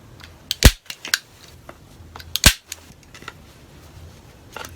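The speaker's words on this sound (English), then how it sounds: "I'm just going to wrap a little bit of the gray fabric around here, and I'll just staple it on" Staple gun firing into gray fabric wrapped around a board for an RV Roman blind: two loud sharp snaps about two seconds apart, with softer clicks and handling noises between, no talking.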